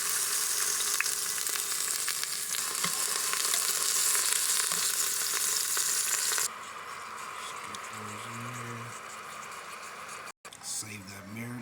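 Marinated oxtails searing in a hot pan give a loud, steady sizzle and frying crackle that drops abruptly to a quieter hiss partway through, with faint low clatter near the end.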